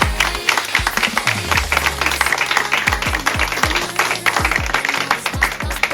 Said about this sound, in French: on peut le remercier et l'applaudir